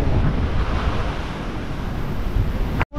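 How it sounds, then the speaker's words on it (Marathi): Sea surf at a rocky shore near Hedvi washes in a steady, loud rush with heavy wind buffeting, ending in a sudden brief cutout. "भरती मोठी आली की पाणी उडतं वरती."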